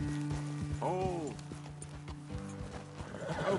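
Horse hooves clip-clop steadily at close range while a horse whinnies, with someone talking over the sounds, in a video game.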